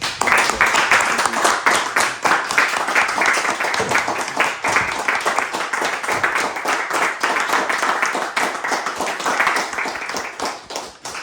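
A meeting audience gives a round of applause, steady dense clapping from many hands sustained for several seconds at close range before tapering off at the end.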